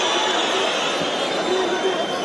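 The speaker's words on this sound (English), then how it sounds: "Listen to the crowd here, willing Assu out." A crowd at an MMA fight roars in a continuous wash of cheering and shouting from a packed arena, steady and loud throughout.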